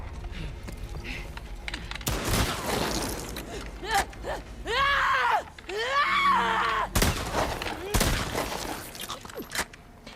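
Gunfire in the video game The Last of Us Part II: a couple of loud, sharp shots bursting out between mechanical clicks and groaning game sounds, with a player talking over the action.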